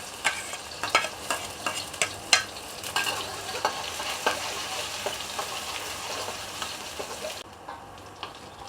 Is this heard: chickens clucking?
no